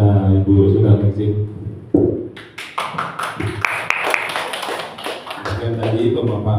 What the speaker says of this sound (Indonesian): berikan tepuk tangan kepada Ibu Sudarningsih